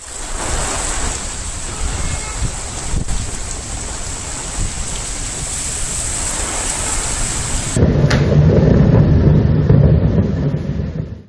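Heavy monsoon rain lashing down in Telangana, a dense, continuous roar of downpour with a deep rolling rumble of thunder building louder in the later seconds.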